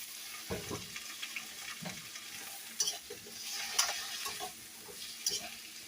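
Water added to a pan of frozen food, crackling and sizzling with bursts of spitting and stirring scrapes, steady through the clip, close and moderately loud with no talk.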